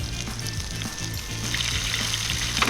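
Beef searing in a hot pan in batches, a steady loud sizzle and crackle close by with a faint scrape of stirring.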